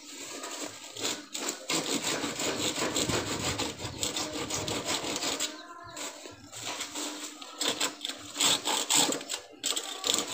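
A hand saw rasps back and forth through wood in quick, uneven strokes, close up, pausing briefly before resuming its scratchy rhythm.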